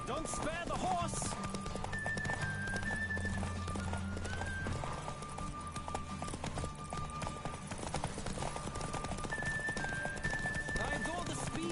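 Galloping horse hooves in The Witcher 3 pound in a fast, even rhythm over game music, a short neigh rising near the start, the pace holding to the end.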